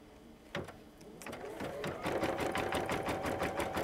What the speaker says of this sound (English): we'll let it stitch, and it's just going to sew right across the bottom.